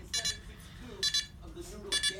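Close electronic double beeps from an alarm clock repeat three times at a steady pace, sounding between bursts of a person talking nearby.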